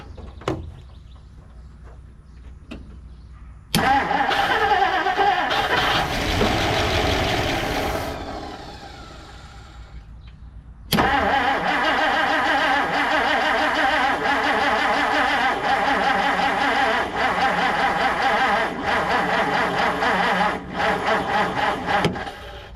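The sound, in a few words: 1959 Plymouth Savoy classic car engine starting and running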